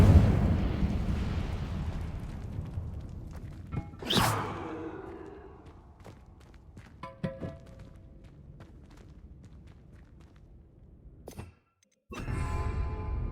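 Incendio fire spell cast in Hogwarts Legacy bursts with a sharp whooshing flare that decays over a couple of seconds amid quieter game ambience, footsteps and clicks, then a second burst near the end.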